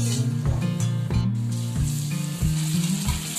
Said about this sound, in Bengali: আলুগুলো দিয়ে ভালো করে ভাজা ভাজা করে নেব